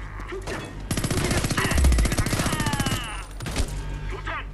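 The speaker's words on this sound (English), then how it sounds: "This isn't silenced. This is the exact opposite of silenced. Suppressive fire!" Unsilenced automatic gunfire laying down suppressive fire in Homefront The Revolution, a long rapid rattling burst of loud close shots lasting a few seconds, bracketed by quieter game noise.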